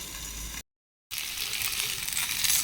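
Pointed gourd (potol) fries in a covered pan with a steady, close hiss of sizzling oil that briefly cuts out, then returns slightly louder and keeps crackling without talk.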